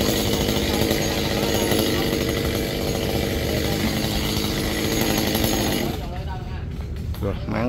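An Echo mini chainsaw cuts into a large kapok tree near power lines, its loud, steady buzzing engine running continuously for about six seconds before dropping to a rougher, quieter idle near the end.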